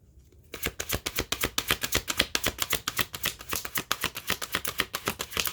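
Tarot cards riffle and slap in a rapid, even flurry of crisp snaps, close up and continuing for several seconds.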